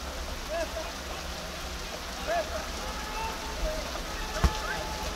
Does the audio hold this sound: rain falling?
yes